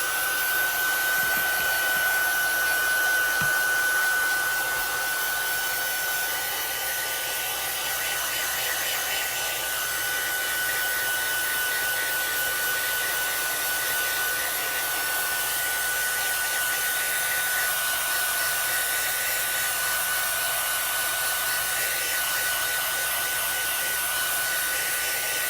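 A handheld heat dryer blows steadily and loudly close by for the whole stretch while drying Distress Oxide ink on a craft panel, a constant whooshing roar with no break.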